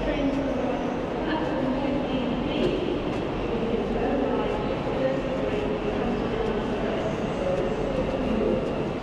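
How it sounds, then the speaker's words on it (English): Onboard a moving train bound for Manchester, a continuous low rumble and rattle of the carriage runs steadily throughout, with faint clicking and a bit of cabin noise. "let's head on the train"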